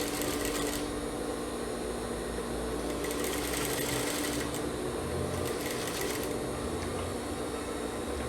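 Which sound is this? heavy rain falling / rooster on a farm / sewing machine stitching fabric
sewing machine stitching fabric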